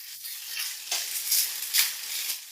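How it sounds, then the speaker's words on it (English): Cooked rice is stirred with tender mushrooms in a hot pan: steady, close sizzling hiss with scraping stirs and soft pulses of the spatula moving through the mix, no voices. "Mix well."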